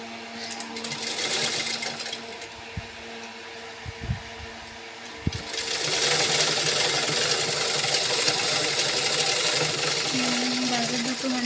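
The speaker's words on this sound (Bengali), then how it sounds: "প্রথমে আমি হ্যান্ডেলটা সেলাই করে নিচ্ছি ব্যাগের।" A sewing machine stitches the handle of a homemade bag, running in a steady mechanical whir that grows louder and denser partway through, with a few soft knocks early on and no talk.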